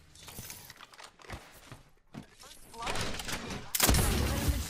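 Frag grenade going off in an Apex Legends match, a loud burst of blast noise swelling near the end after scattered gunfire and shuffling, with voices talking over parts of it.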